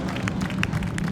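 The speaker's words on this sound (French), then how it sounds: "On les applaudit bien fort encore" Crowd applause at an outdoor 14 July ceremony in Dourdan, greeting an aircraft flyover: steady, dense clapping from many spectators, moderately close and continuous throughout, with no speech over it.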